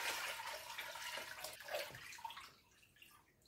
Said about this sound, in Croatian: I sad ću ovako precijediti, preliti u drugu posudu.